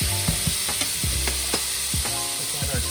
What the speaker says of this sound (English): You can hear that sizzle, just a little bit smoked yet.